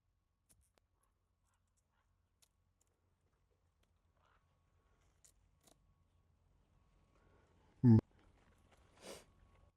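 A plant stem at the four-leaf stage is cut open in the field: a single sharp snip stands out near the end of a mostly quiet stretch, followed by a softer rustle.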